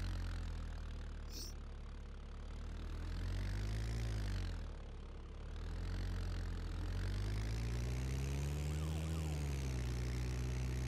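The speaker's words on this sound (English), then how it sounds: "I hear sirens already." A wailing police siren in the video game ArmA 2 rises and falls over a steady engine rumble, continuous and fairly loud throughout.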